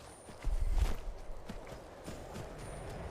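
A horse's hooves clip-clop in the video game Skyrim, with a cluster of soft, muffled thuds near the start, then lighter, uneven steps continuing at moderate volume over a faint ambient background.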